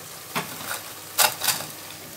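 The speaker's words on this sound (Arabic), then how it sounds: "خلاص حمرنا البصله اهيت" Onions frying in hot oil until crispy for Egyptian koshari, a low, steady sizzle broken by a few louder scraping stirs of a spoon in the pan.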